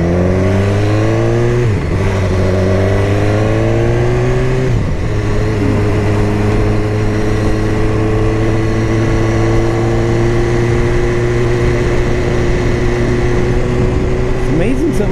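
A BMW S1000R motorcycle with its stock exhaust runs loud and close, with a steady idle broken by two quick blips of the throttle early on, then a long even drone as people talk.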